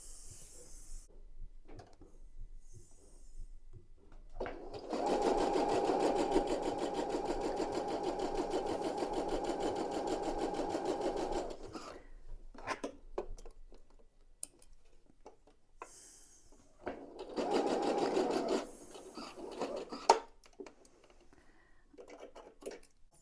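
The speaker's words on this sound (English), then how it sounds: "Match up your square to the corners and we're going to go and sew across that line." A sewing machine stitches strips of a pineapple quilt block in two separate runs, a steady mechanical whir at close range, the first run long and the second short, with quiet handling sounds between them.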